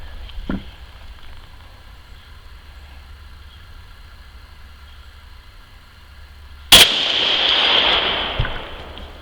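A single sharp rifle shot from a .243 Winchester Remington 700 BDL cracks loudly outdoors after a quiet stretch, followed by a lingering rumble and echo.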